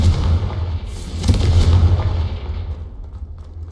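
A Confringo blasting spell explosion in the Hogwarts video game, a loud close boom with a rumbling low tail that fades out over a few seconds, with no talking.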